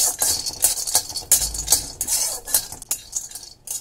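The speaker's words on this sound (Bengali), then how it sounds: "নাড়াচাড়া করে ভেজে নেব।" A metal spatula scrapes and clinks repeatedly against a wok as peanuts are stirred and dry-fried, giving irregular bright metallic strokes at close range with no talk.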